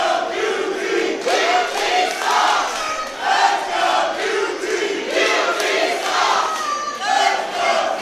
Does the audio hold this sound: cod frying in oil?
no